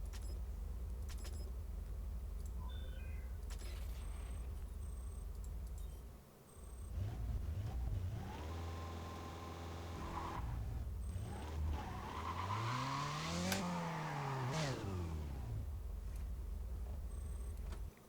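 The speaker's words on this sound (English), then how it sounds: "The McLaren F1 is fast." A McLaren F1 in the Need for Speed racing game, its engine note rising and falling through gear changes with tire skids, moderately loud, no talk.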